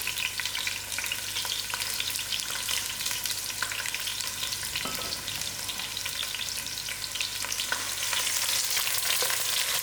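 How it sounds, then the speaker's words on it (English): Onions dropped into heated oil fry with a loud, dense, steady sizzle that fills the whole stretch, with faint stirring scrapes and no talk. "My oil has heated up. I'm putting in my onions."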